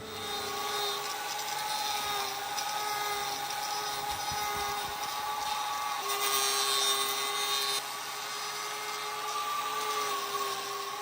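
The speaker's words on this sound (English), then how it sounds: "we're just going to shave this little pointy bit back with the grinder" A grinder shaves the hard horn of a cow's hoof, giving a steady, loud, high whine that runs throughout with slight shifts in pitch as the tool bites into the hoof.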